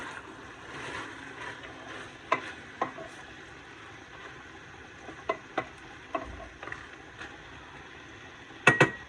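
Green beans stirred into a stew in a pot, soft low churning with scattered faint taps and knocks of a spoon against the pot, close and quiet, ending in a louder clatter.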